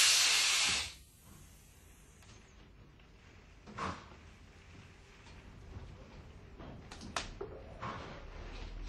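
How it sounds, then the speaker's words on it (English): A loud hiss of compressed air bursts from an Alfa Laval separator during maintenance and cuts off within a second, followed by quiet room tone and a few soft metallic clicks and knocks. "Release the compressed air."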